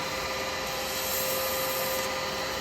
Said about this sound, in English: tiny bit of sandpaper